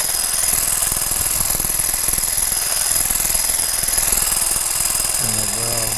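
A Craftsman hedge trimmer cutting an already-bloomed shrub, its motor and blades making a steady, loud, high buzzing chatter close by for the whole stretch without pause.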